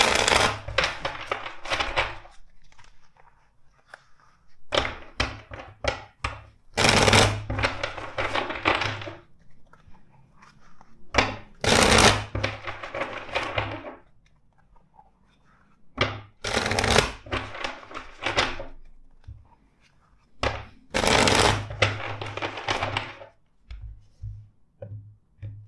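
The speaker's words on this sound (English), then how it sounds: "Let's shuffle the deck four times for you." A tarot card deck is shuffled in repeated bursts of crisp riffling and flapping, separated by short quiet pauses, close and clear with no talking.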